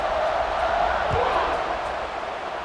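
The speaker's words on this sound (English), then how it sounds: "this crowd is buzzing after that last score" Stadium crowd in EA Sports College Football 26 keeps up a steady, dense roar of buzzing noise, holding at an even level after a score.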